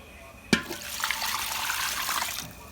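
Red ant eggs are rinsed in a basket under running water, a sudden splash followed by a steady close pour and trickle lasting a couple of seconds.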